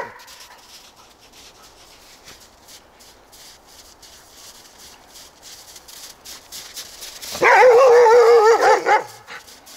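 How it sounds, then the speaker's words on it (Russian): Dog barking and yipping near a metal detecting dig site, a burst of loud close barks with a whine near the end after quieter rustling. "Ну чё гавкал?"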